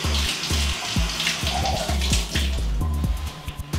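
Water pours from a tap into a container, a close, steady gushing stream with rhythmic gurgling pulses throughout, no voices over it.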